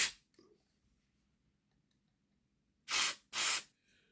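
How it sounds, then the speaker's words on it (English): Two short, loud bursts of aerosol cleaner spray hissing close up onto the axle shafts of a Hornby R068 Black 5 model locomotive, each about half a second long, after a brief faint hiss and then quiet. "Give these axle shafts a wee scoosh out."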